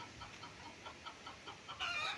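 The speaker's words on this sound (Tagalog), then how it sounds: "At sa ngayon may mga alagang manok" Chickens kept at a farmhouse in Nagcarlan, Laguna cluck faintly and repeatedly at a distance, in soft, regularly spaced calls over quiet outdoor background.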